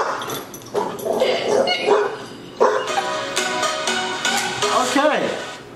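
A dog barks, yips and whimpers in loud, uneven bursts, with voices talking over and between the calls.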